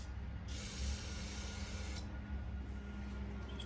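Cleaner sprays in a short hissing burst into the needle and seat of a Stihl chainsaw carburetor during a rebuild. The burst is quiet and close over a low workshop hum.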